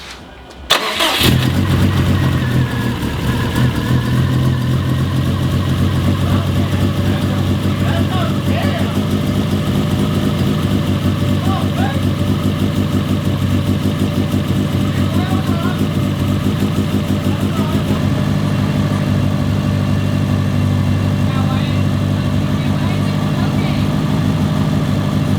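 A 2005 Subaru STI engine cranks briefly, catches and settles into a loud, steady idle that runs without a break to the end, with no talk over it.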